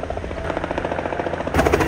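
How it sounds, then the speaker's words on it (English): A helicopter landing in a back yard, its rotor thumping loudly and steadily up close, a fast rhythmic chopping that swells near the end. "There's a helicopter landing in the back yard."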